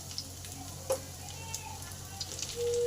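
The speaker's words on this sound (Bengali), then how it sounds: "রসুনটা ভালো করে ভাজা হয়ে গেছে ঠিক এই সময় পেঁয়াজ কুচিটা দিয়ে দিলাম" Oil sizzles steadily in a pan as chopped onion is added after frying garlic, with a few light clinks and brief stirring noises, fairly close and moderately loud.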